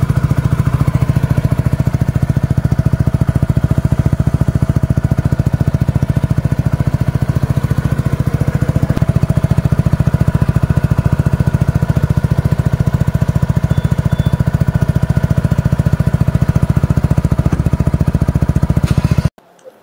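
A SYM Husky ADV 150 scooter engine idles steadily, a close, even low-pitched thrum with a fast regular pulse that holds unchanged for about nineteen seconds before cutting off abruptly.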